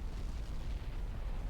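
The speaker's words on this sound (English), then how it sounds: "What was that explosion?" A deep, sustained explosion rumble from the video game Xenoblade Chronicles X rolls on steadily and heavily at a loud level, with no talking over it.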